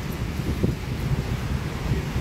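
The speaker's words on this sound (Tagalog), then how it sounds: "Lakas ng hangin, no?" Strong typhoon wind buffeting the microphone in Macau, a steady low roaring rumble with gusty swells throughout, close and loud, no clear talk.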